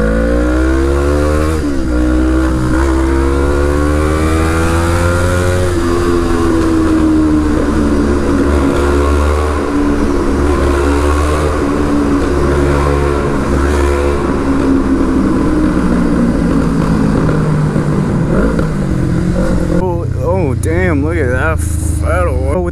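A Kawasaki EX500R motorcycle engine revs hard and loud inside a tunnel, its pitch climbing and falling in long sweeps, with a boomy, echoing tone, continuing for about twenty seconds.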